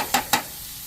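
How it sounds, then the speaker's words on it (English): Spices browning in a pan for a rice dish, with two quick close bursts of sizzle and stirring, followed by a quieter, steady frying hiss. "Get some of this browned up."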